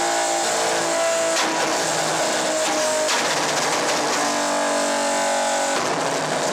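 A Nissan 350Z engine roars loudly and continuously, its exhaust note rising and falling as it revs and accelerates, with no talking.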